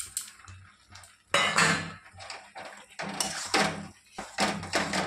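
Coconut sandesh mixture is tipped into cooked semolina in a pan for coconut barfi, giving close, clattering scrapes and knocks of a spoon against metal in irregular bursts.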